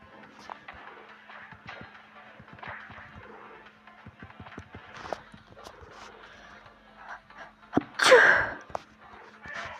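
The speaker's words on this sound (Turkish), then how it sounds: "Ay hapşırdığım için" A single loud sneeze bursts out near the end, following a stretch of scattered soft taps and light movement noise during a home fighting game between siblings.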